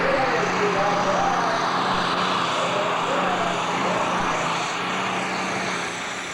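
Tractor-pulling engine with four turbochargers at a 1988 Grand National pull at Cayuga Speedway, a loud broad roar with turbo whine slowly easing as revs drop, with a voice commentating over it.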